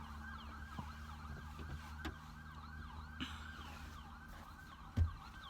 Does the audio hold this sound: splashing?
no